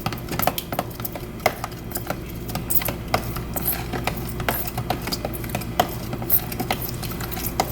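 Buttermilk stirred in a bowl for Cajun pan-fried catfish, giving a steady run of light clinks and scraping taps against the bowl, close and fairly quiet, with no talking.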